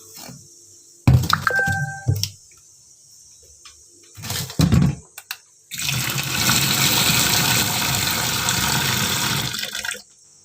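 Green chillies are washed in water in a village kitchen, with a few short splashes and handling knocks followed by a steady, close gush of running water that lasts several seconds before stopping.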